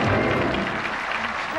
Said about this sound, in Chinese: 掌声欢迎他们，来， 欢迎，欢迎。